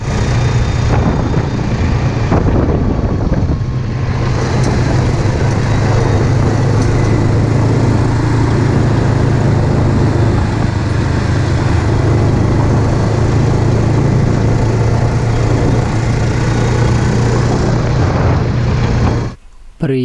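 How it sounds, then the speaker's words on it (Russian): Quad bike (ATV) engine droning steadily while riding, loud and close, with a constant low hum that holds throughout and cuts out abruptly near the end. "Ва, такой экстрим, на квадроцикле ехать."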